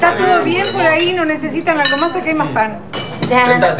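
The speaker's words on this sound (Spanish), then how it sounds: "Bueno, tío, vamos a brindar." Glasses clink together during a toast at a family meal, a bright ring or two heard briefly beneath steady, overlapping conversation at the table.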